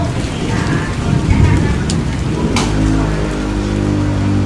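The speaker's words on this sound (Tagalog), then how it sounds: "Di pa tumitigil ang ulan." Heavy rain pours steadily with a dense, hissing wash and a low rumble beneath, close and loud throughout, with faint voices now and then.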